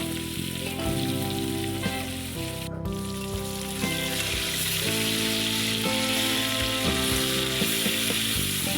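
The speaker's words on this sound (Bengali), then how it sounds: "মাছটা আমি একটু ভালো মতনই ভেজে নিচ্ছি।" Medium-sized hilsa fish pieces fry in hot oil in a pan, giving a dense, continuous sizzle and crackle close up with no talking.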